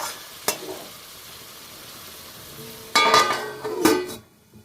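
Metal pot lid clanking down over chicken curry in a pan, two sharp clinks and a clatter above a faint low sizzle, close and loud.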